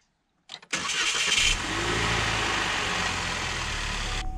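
A car's GDI engine with carbon buildup and its check-engine light on cranks briefly and catches, then settles into a steady, loud idle that runs continuously close by.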